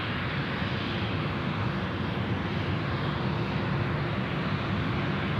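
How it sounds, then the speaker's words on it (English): An Embraer E190 jet roars steadily during its takeoff run on runway 34 left at Sydney Airport, a loud, sustained broadband engine rush with no speech over it. "Comes the E190, Craig, coming up."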